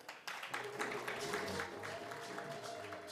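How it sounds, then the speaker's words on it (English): Ceremony audience at an event marking zero tolerance for FGM gives brief, moderate applause, a scattered clapping that starts abruptly and carries on at a fairly even level, somewhat distant. "A round of applause, ladies and gentlemen."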